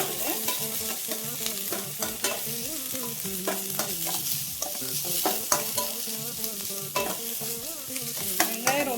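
Sliced big onions stirred and frying in a pan for homemade organic noodles, a steady close sizzle with repeated scraping and clinking strokes of the spoon throughout, no talking.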